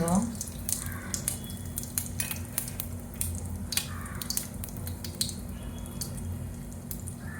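Mustard seeds, cumin and asafoetida sizzling in hot oil, a soft steady fizz dotted with frequent quick pops and crackles, fairly faint and close.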